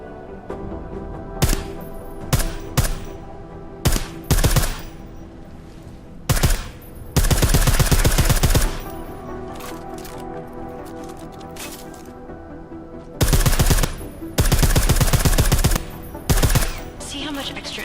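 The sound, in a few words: silenced gunfire from the video game Deus Ex: Mankind Divided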